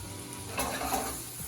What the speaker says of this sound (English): We're just gonna saute and cook that down a little bit